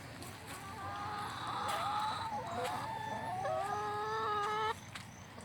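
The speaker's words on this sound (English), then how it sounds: "What you doing there, chickens?" Several chickens in a coop give a continuous stream of clucks and drawn-out squawking calls, close and overlapping, then ease off abruptly near the end.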